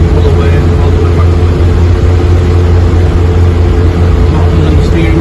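A 1966 Morris 1000 convertible's engine pulls steadily uphill in fourth gear, a continuous low droning hum with constant road and wind noise inside the cabin.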